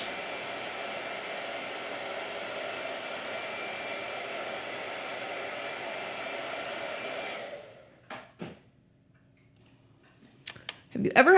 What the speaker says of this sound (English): Again with the blow dryer